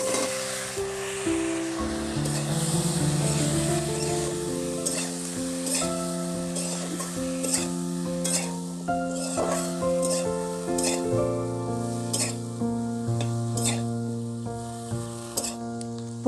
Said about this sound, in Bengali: এবার ফুলকপিগুলোকে আমি হালকা করে ভেজে নেব।